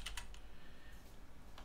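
Quiet clicks of typing on a computer keyboard, a few quick keystrokes at the start and another near the end with a pause between, faint and alone.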